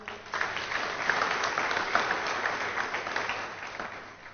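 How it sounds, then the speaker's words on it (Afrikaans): Steady applause from a crowd, continuous clapping at even loudness throughout. "Kom gee vir hulle almal 'n lekker hande klap."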